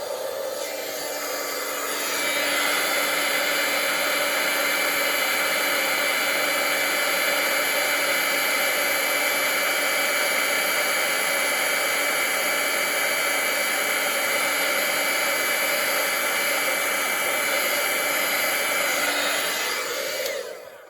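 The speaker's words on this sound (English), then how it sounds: "let's make a little bit of noise, so I'm going to set it with my heat gun" A heat gun sets embossing powder on a card, blowing a steady, loud hiss-and-whine for about twenty seconds at close range before it switches off and winds down, with no talking.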